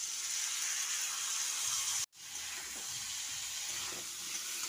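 Ground poppy seed and white sesame paste with green chilli goes into a pan of frying potatoes. A steady hiss of oil cuts out briefly, then the sizzle returns, softer and spattering.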